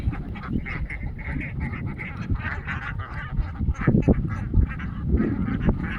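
Flock of Khaki Campbell ducks being herded back across a field from a farm pond, quacking in a dense, overlapping chorus, loud and close, with no talk heard.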